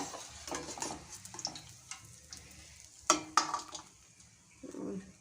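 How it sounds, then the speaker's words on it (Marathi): Sesame and jaggery puris deep-fry in oil over a medium flame, a quiet, uneven bubbling with soft stirring scrapes and a couple of sharper clinks near the middle. "अशा प्रकारे सर्व पुऱ्या तळून घ्यायच्या आहेत"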